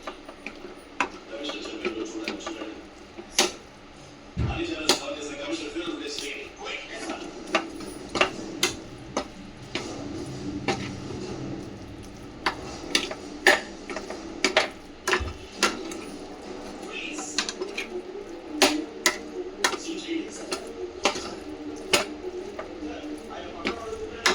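A spoon clinks and taps against a cooking vessel while mixing fish-fry style batter, sharp irregular ticks over a quiet kitchen background, with a voice talking intermittently.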